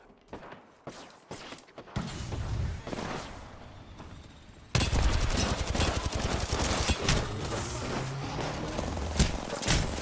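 Sustained video game gunfire in a firefight, with rapid bursts and heavy volleys after a few sparse opening shots, growing dense and loud midway and continuing without pause.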